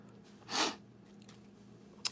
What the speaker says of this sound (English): Sorry if I'm like sniffling so much